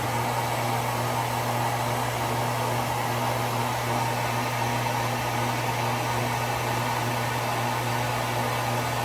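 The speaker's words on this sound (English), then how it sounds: "I have a blow dryer here" A hair dryer blows steadily at close range on mustache wax, a constant airy roar with a low motor hum and no pauses.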